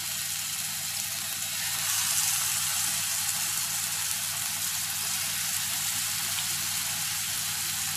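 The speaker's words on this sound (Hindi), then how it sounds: "अब उसके बाद इसमें एक एक पीसेस ये चिकन के हमने फ्राई करना है, बहुत ही कम ऑयल में इसको हमने फ्राई करना है।" Chicken pieces fry in a little oil on a large tawa over medium heat, making a steady, even hiss of sizzling that stays constant and fairly soft, with no voices.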